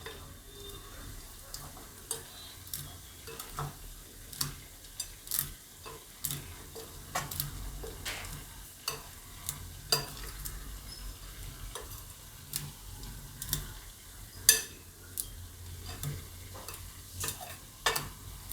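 Onion stirred as it fries in a pan: a soft continuous sizzle under repeated sharp clicks and taps of a spoon against the pan, close and steady.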